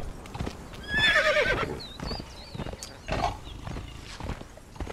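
Horse in the video game Conan Exiles, a loud whinny near the start followed by hoof clip-clops and scattered higher calls, close and unaccompanied by talk.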